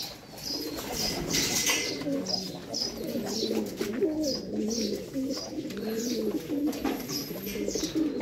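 Pigeons cooing in a loft, repeated soft throaty coos in an overlapping rhythmic pattern, close and fairly loud, with occasional higher chirps and a brief flutter of wings and no one talking over them.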